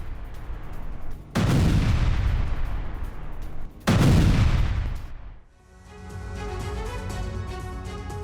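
Two heavy, booming rocket strike explosions in Gaza, captured on CCTV, a few seconds apart, each decaying into a long rumble, followed by a steady higher-pitched whine or hum.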